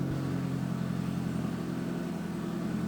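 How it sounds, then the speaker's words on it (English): A steady, low engine rumble drones from a car nearby, continuous and moderately loud with no voices. "There's a car outside that just makes a lot of noise"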